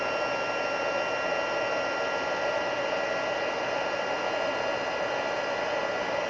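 A heat tool blows hot air at close range, a steady, even whooshing roar much like a blow dryer, unbroken and constant for several seconds with no talking.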